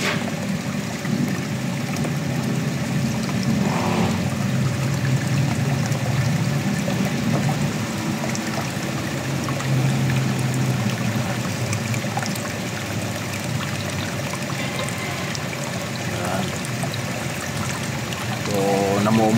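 Steady rushing and trickling water flushing out of an engine where water and oil have mixed, with a low mechanical hum underneath and a voice occasionally talking over it.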